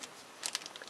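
Plastic vinyl wrapping being pulled off a boxed DBPOWER projector, a quiet burst of crinkling and crackling in the second half, close and faint, with no talk.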